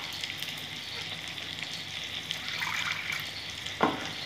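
A spice paste of yogurt, roasted cumin, coriander, ginger, garlic, green chilli and salt sizzles quietly in a pan for katla fish, a steady low hiss with a brief stir near the end.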